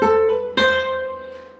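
Electric guitar plays a quick hammer-on and pull-off figure a third lower, clean sustained notes with a sharp new attack midway, ringing out and slowly decaying.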